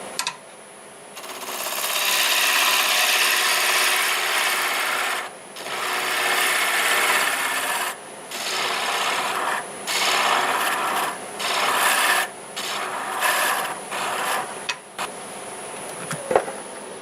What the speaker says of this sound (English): I'll go back to my 1/2-inch bowl gouge.